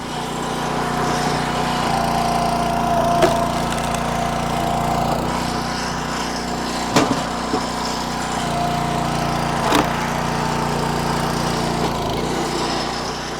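A Woodland Mills two-way log splitter's engine runs steadily while splitting firewood, a loud continuous mechanical drone with a few sharp cracks and clanks from the wood and wedge, and no talking.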